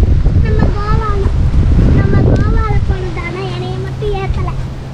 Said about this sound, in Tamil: நல்ல காற்று என்ன? சூப்பர் காற்று, ப்ரீஸ்